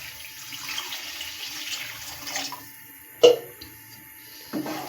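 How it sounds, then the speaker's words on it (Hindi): Water pours into a pot of mutton karahi with a soft, steady splashing rush, followed by a sharp clank and a brief later splash or knock. "तकरीबन 3 कप पानी मैं इसमें डाल दूंगी।"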